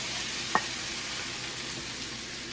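Flour stirred into melted butter for a mac and cheese roux gives a steady, even sizzle throughout, with one sharp click near the start and no voices.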